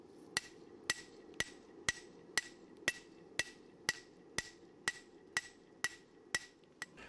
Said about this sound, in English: I put it in a vise and hammered on the tip